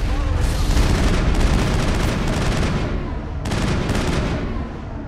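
Dense, continuous gunfire and booming blasts from an ambush in the Mass Effect video game, loud and close, with rapid bursts that ease briefly near the end before resuming.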